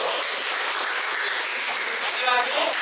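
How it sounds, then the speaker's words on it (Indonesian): Group applause from a school class fills the space with a steady, bright clatter of many hands clapping, continuous throughout with a faint voice near the end. "tepuk tangan dulu"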